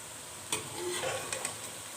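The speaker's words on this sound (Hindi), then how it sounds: "हमारी भिंडियाँ फ्राई हो गई हैं अच्छी तरह से" Okra fried in a pan for a chicken dish, with a steady low sizzle and a few sharp stirring scrapes and taps spaced across the moment, fairly quiet and close, no voices.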